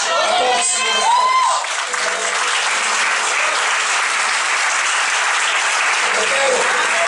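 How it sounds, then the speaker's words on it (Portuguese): A church congregation applauds at a worship service, with sustained dense clapping throughout and a brief voice near the start. "Aplauda o Senhor"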